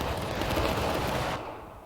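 Musket fire crackles in the Civil War battle game War of Rights at Dunker Church, a dense rolling volley of distant shots lasting a couple of seconds before fading.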